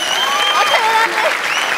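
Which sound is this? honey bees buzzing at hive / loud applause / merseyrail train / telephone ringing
loud applause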